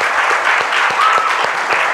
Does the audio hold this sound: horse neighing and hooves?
no